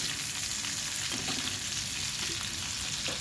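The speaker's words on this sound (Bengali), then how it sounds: "আর এই মাছ ভাজিটা করে দিচ্ছি" Hilsa fish pieces frying in hot oil in a home kitchen, a dense, steady sizzle and crackle that stays loud and even throughout with no voices.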